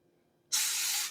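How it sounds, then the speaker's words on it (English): A spray nozzle releases a single sudden burst of cleaner onto dishes, a loud steady hiss lasting about half a second before trailing off, with no talk. "And just spray that on."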